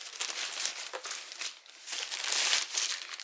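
A plastic sleeve crinkles and rustles up close as an Azio Retro Classic Bluetooth keyboard is pulled out of its packaging, in dense, uneven bursts of crackling.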